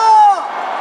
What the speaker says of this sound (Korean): 여러분 함성 부탁합니다.